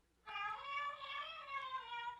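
A novelty Christmas sweatshirt plays a high, electronic meowing cat song, one sustained tonal meow-like tune starting abruptly and continuing, fairly quiet and alone.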